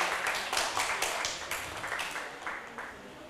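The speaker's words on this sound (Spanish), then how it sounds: "Un aplauso para Cristo" Church congregation applauding in praise, a dense wash of many hands clapping that swells at the start and slowly tapers off, with no one speaking over it.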